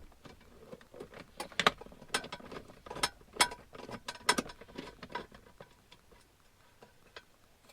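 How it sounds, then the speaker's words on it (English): A coarse-threaded bolt being turned out on a Land Cruiser 100 series, making a series of irregular close clicks and metallic ticks, ratchet-like, with no talk. "So that bolt actually has some really coarse threads, so it probably only takes like a few turns to have it come out."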